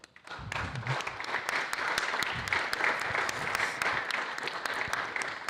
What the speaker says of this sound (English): a round of applause please for Abdul Hadi, who gets a bonus point